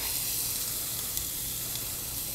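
Half an onion frying in canola oil, a soft continuous sizzle and hiss with a couple of faint pops, close by and steady.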